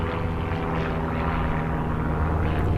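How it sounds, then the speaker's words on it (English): A propeller aeroplane passes overhead as a steady, fairly loud broadband drone with low engine hum, continuous throughout and with no talk over it. "Hello, Mr. Aeroplane."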